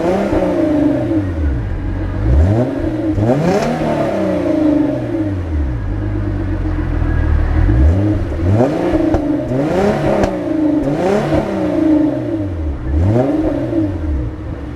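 A 2014 Hyundai Genesis Coupe 3.8 Ultimate with its 3.8-liter direct-injected V6 revs repeatedly, loud and close, each rise and fall of engine pitch repeating in steady cycles with no talking.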